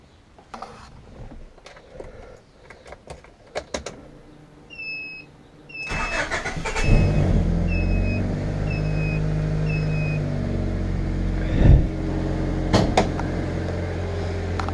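A 1990 Honda Civic hatchback with a rusted-out muffler cranks over after some clicks and handling noises, then catches into a steady low rumbling idle with a few chirps and a brief rev.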